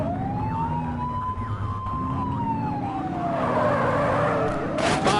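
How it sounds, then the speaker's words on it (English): A police car siren sounds in a patrol driving game, starting as a sweeping wail over engine rumble before shifting into faster, choppier yelps near the end, with a brief skid-like burst at the close. "Get behind them and blip the siren and make them pull over."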